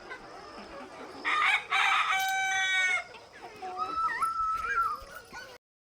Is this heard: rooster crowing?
yes